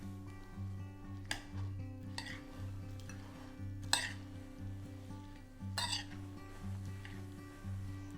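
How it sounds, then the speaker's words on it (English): Homemade tomato and jalapeno salsa being mixed in a bowl, with soft stirring and scraping and a few sharp utensil clinks against the dish, set over a steady low background hum. "let's go ahead and mix this up."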